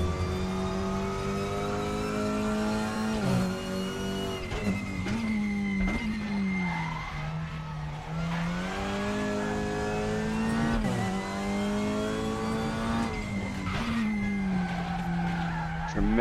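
A race car in the RaceRoom video game screams through corners with a high tonal engine whine that dips and climbs through gear changes, overlaid by sustained tire skidding and squealing, loud and continuous without talk.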